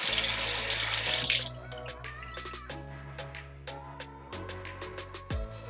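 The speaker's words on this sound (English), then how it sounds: "take that time to wash your strawberries and get them ready" Tap water runs while strawberries are washed in a sink, starting with a strong gush and then settling into intermittent splashes, drips and clatters from handling the fruit.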